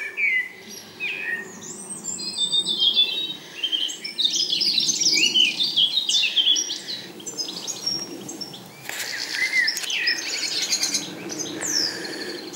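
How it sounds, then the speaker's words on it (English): Blackbirds sing from hedgerows on a May countryside walk near Congresbury, with lively overlapping chirps and warbling phrases at moderate distance that continue without a break over soft insect-like background noise. "There's the blackbirds, the noisiest birds."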